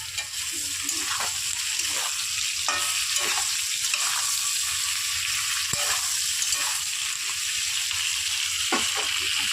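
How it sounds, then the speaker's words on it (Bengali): Ridge gourd fries in a pan with a loud, continuous sizzle, broken by repeated scraping stirs of a spatula at an uneven pace. "দিয়ে দিয়েছি আমি ঝিঙেগুলো, একটু ভালো করে নাড়িয়ে নিচ্ছি"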